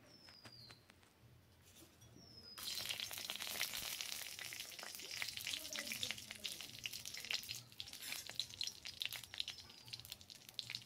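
Nigella seeds and dried red chillies hit hot mustard oil in a kadai, setting off a sudden, loud, steady crackling sizzle that keeps going after a quieter start with faint background sounds.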